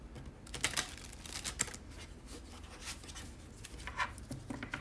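Soft, uneven papery riffling and tapping of a tarot deck being shuffled, close and quiet, with no voices.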